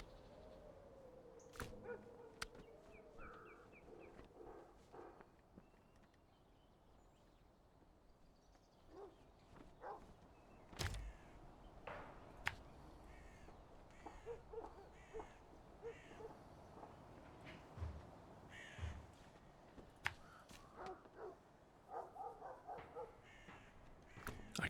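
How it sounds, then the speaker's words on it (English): A dog barks off in the distance on a SnowRunner map, intermittent and faint, with sparse woofs and some bird-like calls over a quiet game ambience. "can hear a barking dog in this map"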